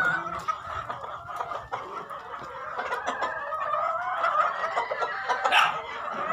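Free-roaming hens running loose near a poultry shed, clucking continuously in a busy flock chatter, close and fairly loud, with scattered sharper calls throughout.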